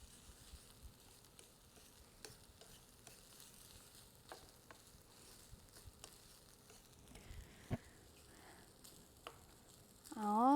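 Rice being stirred and fried in a pan with sesame oil, a faint low sizzle with scattered scraping and tapping of a utensil against the pan, growing louder with a clatter at the very end.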